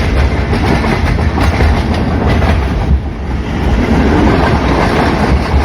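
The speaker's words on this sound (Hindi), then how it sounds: "ट्रेन किसी मोहल्ले के अंदर दाखिल हो गई है" A Pakistani passenger train on the Rawalpindi–Sialkot line runs through a neighborhood of closely built houses, with a loud, continuous rumble and rhythmic clickety-clack of wheels on rails heard from on board.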